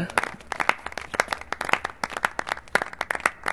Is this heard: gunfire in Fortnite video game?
no